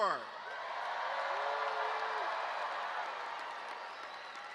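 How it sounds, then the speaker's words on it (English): Graduates at a Montclair State University commencement ceremony cheer and applaud as a class, a broad wash of crowd noise that swells and holds steady across the stretch, with a faint whistle or holler rising above it. "let's practice hooting and hollering right now by cheering for the class of 2024"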